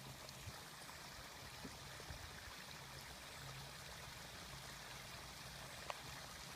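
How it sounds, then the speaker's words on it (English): Quiet, steady rush of water from small waterfalls on Oregon's Tualatin River, faint and continuous with a few soft drips. "There's a couple little waterfalls."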